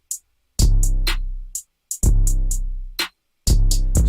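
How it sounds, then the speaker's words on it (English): Programmed beat drums made in FL Studio: a layered kick with a long booming tail hits three times, with crisp open hi-hat taps in between in a sparse, punchy pattern, loud and dry without voices. "So at the beginning of the beat, the drums kind of sound like this."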